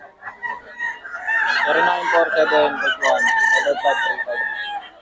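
A rooster crows in a long, strained call with harmonic tones, fairly close and loud, standing alone without talk over it.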